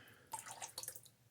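Water squeezed out of a large, high-loft shaving brush knot lathered with Arko stick soap, a close, brief wet splatter and trickle lasting about a second, with no talking.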